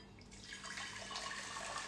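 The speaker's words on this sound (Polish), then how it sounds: "Wlewamy naszą wodę do garnka." Water poured into a cooking pot, a faint, steady splashing trickle that builds slightly and runs on without speech.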